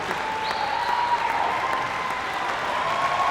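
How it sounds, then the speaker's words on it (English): A school audience claps for an assistant principal at an elementary school event, steady and sustained applause filling the whole moment at an even level. "big round of applause"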